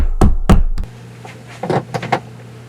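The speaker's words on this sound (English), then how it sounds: "Who's knocking?" A door is knocked twice, firm and close, then one more light tap, and a softer scatter of taps and rustling follows over a low steady hum.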